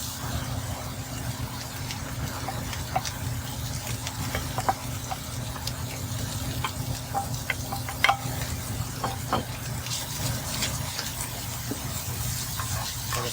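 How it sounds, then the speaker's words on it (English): Crawfish tossed into hot oil in a pan sizzle loudly and steadily, with scattered clicks and scrapes from stirring over a constant frying hiss. "And now we will just toss in our crawfish"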